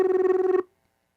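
A telephone rings once, a single electronic trill of rapid pulses lasting about half a second, loud and close, then cuts off into silence.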